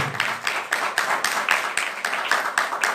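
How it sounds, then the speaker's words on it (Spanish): A church congregation claps in a steady, rhythmic beat, roughly four strong unison claps per second, loud and close, with no talk over it. "Aplaudirle más fuerte al Rey."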